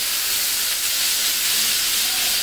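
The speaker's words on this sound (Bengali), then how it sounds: "তেলটার মধ্যে যখন আপনি মশলাটা ছাড়বেন তখন কিন্তু অনেক মানে জোরে একটা আওয়াজ হয়" Spice paste hitting hot oil under a lid while cooking a Bengali pabda fish curry, giving a loud, steady sizzling hiss that runs unbroken throughout.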